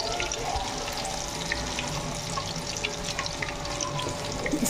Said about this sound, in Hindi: जब तेल अच्छे से गर्म हो गया देन मैंने इसमें डाला।